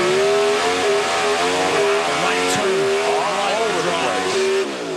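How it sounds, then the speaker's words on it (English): Onboard a Pro Stock drag race car during a 2014 Carolina Nationals run, the engine roars loud and close, its pitch climbing through gear shifts across the whole run. "Go on board with Jed and listen to this run"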